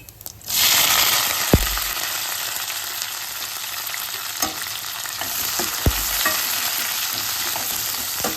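Onions, green chillies and curry leaves with cumin frying in oil in a pan: a loud, even sizzle starts suddenly and holds, broken by a couple of spoon knocks against the pan.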